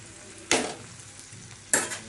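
A spoon stirs hilsa fish curry frying in a pan, giving two sharp scraping strokes over a faint, steady sizzle.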